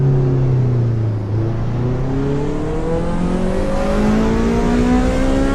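A car engine in the Assetto Corsa Evo racing game revs steadily, its pitch climbing as the VTEC cam engages. The drone stays loud and continuous throughout and plays alone.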